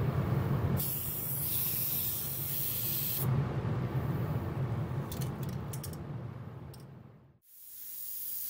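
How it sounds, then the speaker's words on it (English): An airbrush sprays paint onto a model ship in a workshop, giving a steady close airy hiss that cuts off and restarts, with a few light metallic clicks before stopping and resuming. "we'll close the door and then we'll do a little bit with the airbrush"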